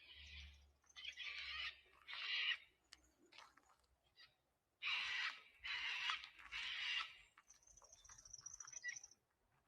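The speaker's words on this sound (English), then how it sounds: "I'm aware of bird calls to my right, loud cockatoos screeching." Harsh, loud cockatoo screeches come in bursts, several in a row, then a pause and another cluster of raucous calls, with faint chirps in between, in a forest.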